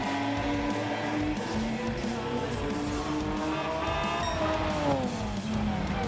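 A car slides and drifts along a dirt path in Gran Turismo 7, its engine droning steadily with a rising, sustained tone and loose tire noise throughout, loud and continuous with no talk.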